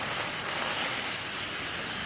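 Heavy rain from Tropical Storm Hermine pours down at St. James Plantation, a dense, even hiss of downpour drumming on surfaces with no break and no voices.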